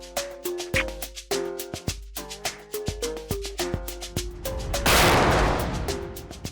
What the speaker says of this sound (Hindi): अबे पीछे से क्या गोली चला रहा?